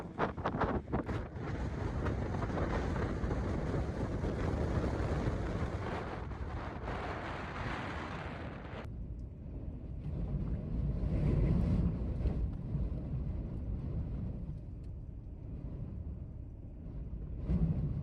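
Strong wind buffets the microphone in a loud, roaring rush that eases partway through into lower gusty rumbling.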